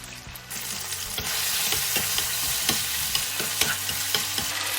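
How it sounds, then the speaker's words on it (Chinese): Marinated chicken thigh pieces drop into hot oil in a wok and stir-fry with a loud, continuous sizzle, punctuated by regular scraping and clanking of the spatula against the pan. "油烧热以后，将腌好的鸡腿肉倒入，"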